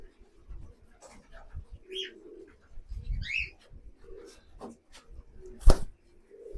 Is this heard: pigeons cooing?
yes